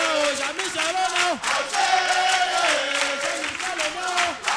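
An audience at a televised midday show with Yodé et Siro cheers and shouts rhythmically in loud, surging bursts, a dense crowd roar with chanting voices that swell and dip throughout.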